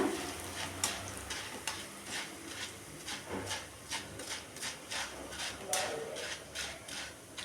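Dough pieces for a mixture snack frying in hot oil, a steady crackling sizzle broken by repeated sharp scraping and stirring clicks, close and moderately quiet, with no talk.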